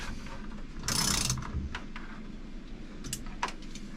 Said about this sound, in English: pick up your trusty socket with the extra long extension that you don't necessarily need. Tighten it down.